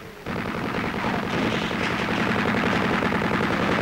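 An artillery battery fires in a 1944 Soviet war film, rapid dense bursts of gunfire rattling continuously after a sudden start, loud and sustained with no speech.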